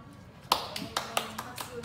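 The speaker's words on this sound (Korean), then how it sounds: "박수" A few sharp hand claps sound in an irregular pattern, close and fairly faint, with voices speaking at a low level in the background.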